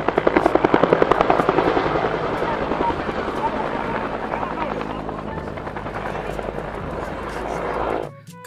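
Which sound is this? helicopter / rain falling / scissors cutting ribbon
helicopter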